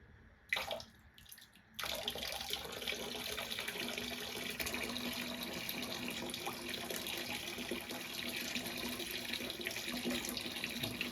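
Hot liquid poured slowly and steadily into phosphoric acid, a continuous close splashing trickle after a brief start-stop at the beginning, with no talking.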